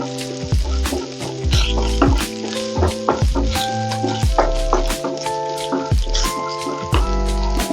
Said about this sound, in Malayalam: ഉള്ളിയും കൂടി ഇട്ടിട്ടൊന്ന് ഇളക്കി കൊടുക്കാം